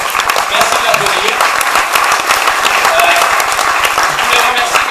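Theatre audience at a French comedy show applauding steadily throughout, dense sustained clapping with some whoops mixed in, loud and close.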